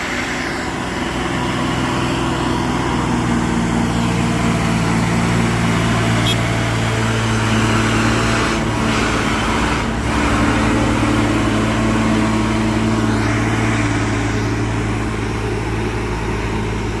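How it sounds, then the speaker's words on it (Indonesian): A heavy truck engine labours while climbing an uphill road, a loud steady low drone holding throughout with no let-up and no talking. "Mudah-mudahan saja kuat ini truk yang menanjak ya bosku ya"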